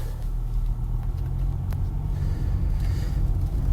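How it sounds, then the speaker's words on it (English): Steady, loud road rumble and engine drone fill the cabin of a moving car, a constant low roar with no breaks and no talk. "I'm driving right now"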